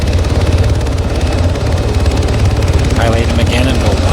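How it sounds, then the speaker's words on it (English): A helicopter idling with its engines running in a military shooter video game, a loud, constant rotor thump and engine roar that fills the whole clip, with faint speech underneath. "he stays in the helicopter and keeps the engines running"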